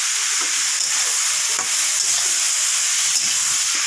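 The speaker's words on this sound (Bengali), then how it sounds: "এখন এটা কিছু সময় ভাজা ভাজা করব আমি" Ash gourd and chana dal with salt, turmeric and sugar frying in a pan, a steady loud sizzle broken by the scrape and clatter of stirring every second or so.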